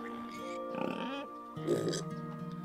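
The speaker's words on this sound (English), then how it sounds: "There's a pig and a bear going at it right now." A pig and a bear fighting in the farming game Lords and Villeins, with piggy oinks and grunts mixed with game tones and music, while someone talks over it.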